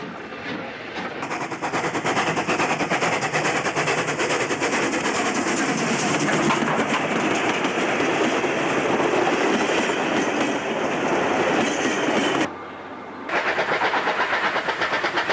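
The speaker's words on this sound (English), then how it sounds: "3290 with an up empty wheat train to Tomingley" Steam locomotive 3290 hauls an empty wheat train on a New South Wales branch line, with loud rapid chuffing and a rolling rumble that run steadily, then pause briefly before resuming.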